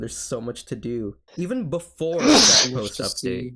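A loud, sharp human sneeze bursts out in the middle of casual podcast talk, a single explosive burst close to the microphone with speech continuing before and after.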